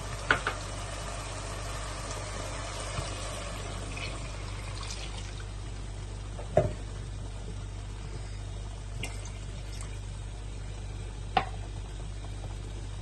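Steady pouring of water into a cooking pot for seeraga samba rice lamb biryani, a continuous splashing trickle with a low background hum and a few faint clinks.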